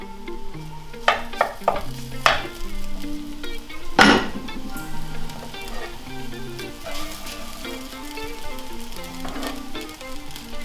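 Cooked rice sizzling and frying in a hot wok for egg fried rice, stirred with a utensil that scrapes and clinks against the pan, including one sharp louder clank, close and continuous with no talking.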